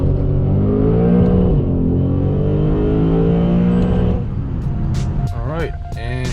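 A Lexus RC F's engine roars loud and sustained as the car speeds along to shed water, the drone holding steady before easing off, followed by a few short sharp sounds.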